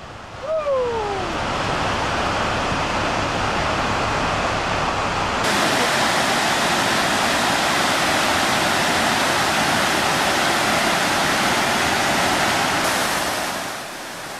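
Furebergsfossen, a waterfall right beside a Norwegian fjord, roars as a dense, steady rush of falling water heard from a boat close by, loud and unbroken throughout, with a brief whistling tone near the start.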